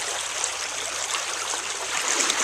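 Water gushes continuously from the pumped water supply of a gold-prospecting dredge and highbanker, a steady, fairly loud broadband rushing with no voices over it.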